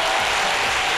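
A studio audience on a French midday television show breaks into loud, dense applause, a thick continuous wash of clapping that fills the whole brief moment.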